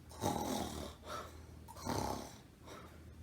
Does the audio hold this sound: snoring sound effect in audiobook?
yes